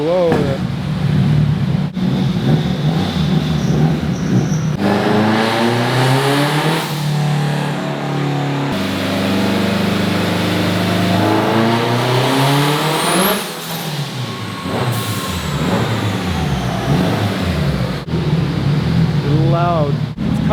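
A 700hp Honda Civic Type R revs hard and loud at close range, with repeated rising and falling sweeps as it cuts boost. Voices can be heard faintly at times under the engine.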